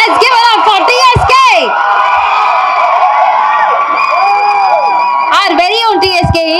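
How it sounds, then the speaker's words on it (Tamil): A crowd at a film first-look launch event erupts in loud cheering and whoops, with a voice calling out over the noise at the start and end. "Let's give it up for TSK."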